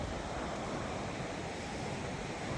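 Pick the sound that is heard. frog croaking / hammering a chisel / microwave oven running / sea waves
sea waves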